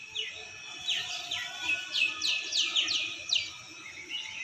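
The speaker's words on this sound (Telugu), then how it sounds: "డైలీ కూడా పక్షుల అరుపులు భలే వినిపిస్తాయి." Birds chirp outside in the morning, several quick rising tweets coming in bursts over a quiet low background hum, moderately close and with no talking.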